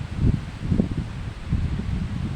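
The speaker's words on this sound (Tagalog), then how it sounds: "Lakas na ng hangin." Gusty typhoon wind rumbling and buffeting the microphone, with low thumping surges over a constant hiss, no one speaking.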